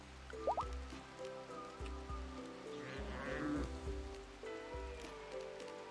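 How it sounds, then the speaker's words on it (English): Hail patters steadily on a surface in a soft, continuous rattle of small impacts, with low tonal sounds and occasional dull thumps running underneath. "it's hailing"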